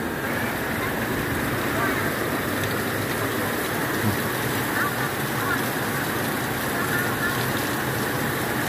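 Steady rainfall outdoors on a cold, rainy day in Thailand, a constant close hiss of falling drops at even loudness with no clear breaks.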